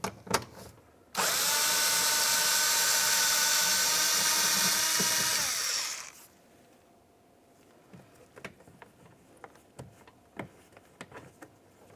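A power tool spins out a 7mm bolt from the interior door trim near the grab handle of a 2000-2006 Chevrolet Tahoe, a loud whirring burst of about five seconds followed by quiet clicks and handling noises.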